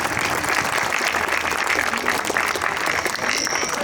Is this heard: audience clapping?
yes